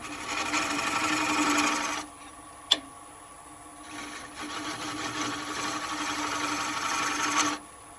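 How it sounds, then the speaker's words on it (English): A scraper hollows out the middle of a large ash live edge bowl on a wood lathe, giving a steady rasping scrape that pauses, resumes, then stops, with a sharp tick in between. "Just use a scraper to get that middle out."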